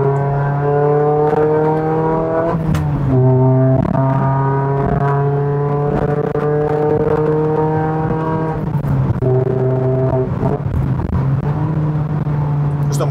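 A sports car engine revs hard and loud, its pitch climbing and dropping through several throttle blips with a steady harmonic drone in between.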